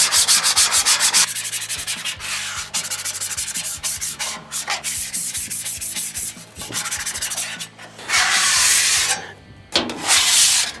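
A metal scraper rasps gunk off a rusted flattop griddle in fast, steady back-and-forth strokes, loud and close, with a few brief pauses and harsher, broader scrapes near the end.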